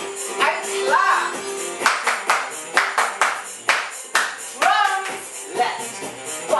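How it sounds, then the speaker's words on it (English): A group claps along in a children's throwing-and-catching movement session, irregular close claps over music with voices shouting and calling out between them. "And clap."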